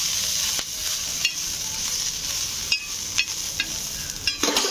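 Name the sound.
green chilies roasting in a pan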